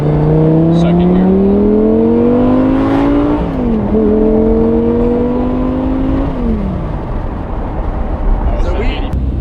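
Engine of a first-generation Audi R8 revving hard and climbing in pitch, with a brief drop as it shifts into second gear before pulling up again, loud and close inside the cabin.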